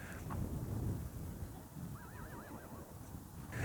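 A horse whinnies at a distance, a wavering high neigh rising and falling over low background rumble and faint rustling.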